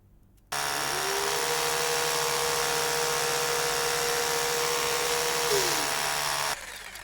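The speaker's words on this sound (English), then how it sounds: "so we'll get the drill." A power drill in the repair game Low-Budget Repairs whirs at a steady pitch for about six seconds, starting and stopping sharply, loud and close with no talk over it.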